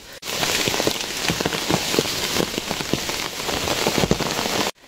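Heavy rain falls on a mountain path in the Qinling forest, a dense steady patter with sharper individual drops striking nearby surfaces, loud and continuous with no voices.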